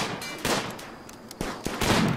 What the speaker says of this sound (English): I'm just letting the turret do everything it can. It's that the turret's actually doing a bang-up job.